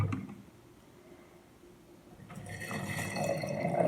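Vinegar pouring over tarragon leaves in a container, a soft liquid trickle that swells into a fuller gurgling pour toward the end, close by and fairly quiet after a hushed start.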